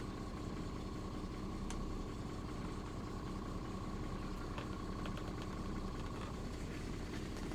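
A 1967 Ford Mustang with a newly installed timing chain idles steadily, its engine a continuous low rumble with light vibration and faint clicks on top, heard from inside the car.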